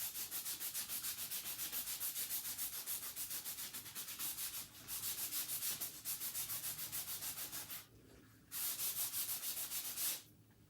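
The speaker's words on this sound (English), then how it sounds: "So I'm going to go in again, do a little more scrubbing." Quick back-and-forth scrubbing on a wooden Christmas sign, a soft rapid rhythmic rasp that runs steadily with two short breaks, close and faint, with no talk.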